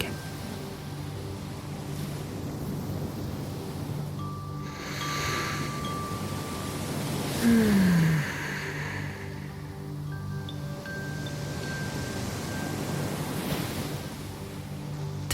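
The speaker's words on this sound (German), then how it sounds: "Die Bewegung der Wellen, wie sie an den Strand gespült werden, immer und immer wieder." Sea waves washing onto a beach, a steady broad rushing surf with gentle swells and a soft whoosh near the middle, continuous and moderately loud.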